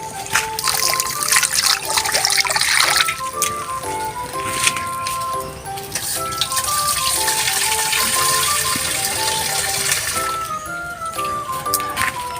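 Water poured into a cooking pot for fish humba, a continuous trickling and splashing stream up close with faint clinks and background hum, no voices.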